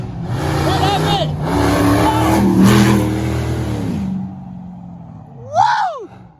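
The straight-piped exhaust of a pickup truck revs loudly in long, rising and falling bursts, with excited voices shouting over it before the engine drops to a low idle and a short whoop follows.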